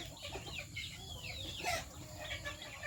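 Young chickens at home in the rainy season cluck and chirp in short, overlapping calls, close and moderately loud over steady background noise, with no talking.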